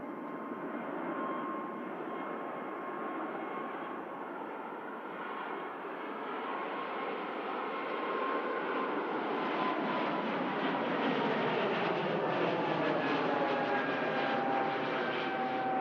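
A Jet2 Boeing 757 airliner flies near Manchester Airport in snowy weather, producing a steady, distant engine roar that swells gradually louder, with no talking over it.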